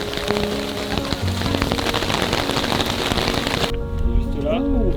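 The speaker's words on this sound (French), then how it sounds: "t'as eu l'orage là, t'as eu les éclairs" Heavy rain with hail pattering on stone during a mountain thunderstorm, a dense steady hiss that cuts off abruptly near the end as voices take over.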